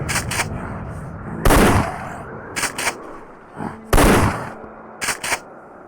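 Shells landing in the distance in a World War I trench survival horror game: two heavy booming impacts a few seconds apart, each trailed by lighter cracks of gunfire, with quiet battlefield ambience between.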